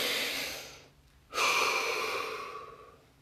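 Two slow, deep breaths during a guided relaxation session, a long airy exhale fading to a pause, then a sharp inhale swelling and gradually tapering off, close and fairly loud with no talk.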